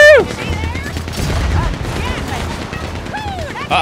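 Machine gun fire in the video game Red Dead Redemption 2 comes as a steady rattling fusillade under whistling, sweeping game effects, loud and continuous across the moment with sharp bursts at the start and end.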